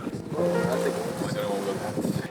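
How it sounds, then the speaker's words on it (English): Strong hot wind buffets the microphone in a continuous roaring rush, with a voice faintly audible beneath the gusts. "So as you can begin to hear, it got really windy"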